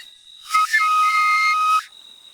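Hunters in the Burkina Faso bush blow a loud, close, shrill whistle, one sustained blast of just over a second with a brief wavering onset, rising clearly out of near silence.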